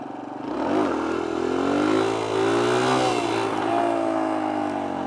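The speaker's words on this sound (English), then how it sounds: "Let me pull another balance point wheelie," A motorcycle engine revs up hard and stays high through a balance point wheelie, the pitch rising and wavering. The close, loud mid-range roar carries on without any talk.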